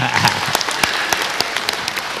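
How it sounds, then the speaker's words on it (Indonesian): An audience at a national elderly day event breaks into lively applause, a dense continuous clapping with a few sharper individual claps standing out, fairly loud and close. "Kita beri tepuk tangan yang meriah."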